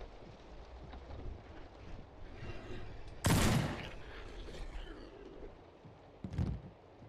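Gunfire in the horror video game Fobia St. Dinfna Hotel: two sharp, booming shots about three seconds apart ring out over a steady, windy, rumbling game ambience.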